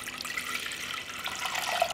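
Water from a tap pours into a pot with a steady, soft splashing rush that continues evenly throughout, faint and close, with no speech.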